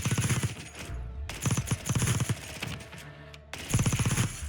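Unsuppressed gunfire in the Call of Duty Rebirth Island video game comes in loud, rapid automatic bursts with brief pauses between them, close and dominant with no voices.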